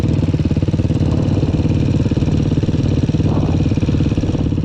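A quad bike engine idles loudly close by with a rapid, rough, pulsing exhaust rumble that stays steady throughout, with no voices.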